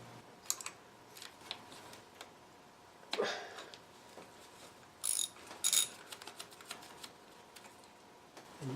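Ratchet clicking as grounding wire nuts on the coil packs of a VW GTI are loosened, short bursts of clicks scattered among quieter handling noises, close by with no talk.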